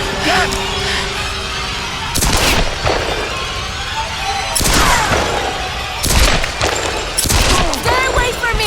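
Several loud gunshots and impacts ring out in the action game Tomb Raider, coming as sharp separate blasts over a tense background, with a voice heard between them.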